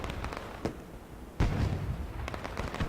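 Racetrack fireworks in a truck racing video game give a few sharp pops and one heavier boom over a steady engine-like roar.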